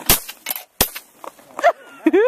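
Two sharp gunshots crack close by during a casual outdoor Thanksgiving shooting session, each a single abrupt report about a second apart, followed by scattered voices and a brief exclamation.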